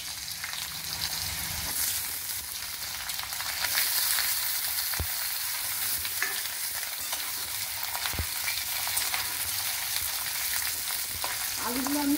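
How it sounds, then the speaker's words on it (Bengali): Potatoes frying in hot oil for a Bengali ridge gourd and potato curry give a steady, close sizzle throughout, with a few sharp utensil clicks and stirring scrapes near the end. "তেল গরম হয়ে গেছে, এগুলো আমি আলুগুলো তেলের মধ্যে দিচ্ছি।"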